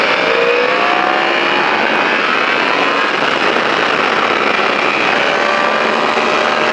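A motorcycle accelerating on a riding track at La Ferté-Gaucher gives a loud, continuous engine whine with rising, sweeping tones, heard up close and steady throughout with no talk.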